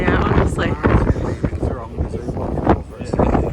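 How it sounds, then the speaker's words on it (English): Strong wind roars and buffets the microphone aboard a sightseeing cruise boat in freezing weather, loud and continuous in gusts, with voices talking over it. "It is really windy."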